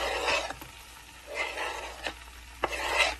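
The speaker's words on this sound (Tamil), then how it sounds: "அடுத்ததாக நம்ம அரைஞ்சி வச்சிருக்கிற வாழைப்பூவை போட்டுடலாம்" Ground banana flower paste being stirred in a pan with wilted greens, several soft rasping scrapes of a spatula against the pan with brief knocks between, quiet and close.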